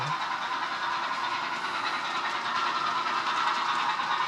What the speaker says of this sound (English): we have to make sure that we don't get run over by the train that's coming by now